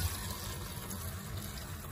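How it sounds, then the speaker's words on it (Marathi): About a potful of water is poured into sago pearls set to soak for sabudana khichdi, giving a brief, steady splashing rush close to the microphone with no voices. "इथे मी या साबुदाण्यात 1 तांब्या एवढं पाणी टाकणार आहे."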